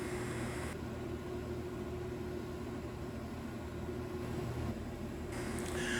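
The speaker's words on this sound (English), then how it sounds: "we've got the magnetic stirring plate going" A magnetic stirring plate runs steadily while an emulsion finishes mixing, giving a constant low mechanical hum with a broad airy hiss throughout and no voices.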